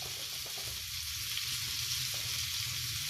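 Cumin seeds sizzle in melted butter in a pan, a steady close crackling fry that stays even and moderately loud for the whole stretch, with no voices.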